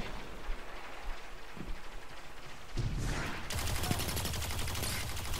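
In Destiny 2, an automatic rifle fires during an Iron Banner PvP match, with bursts of rapid gunfire that swell into continuous loud shooting over a busy background of game sounds.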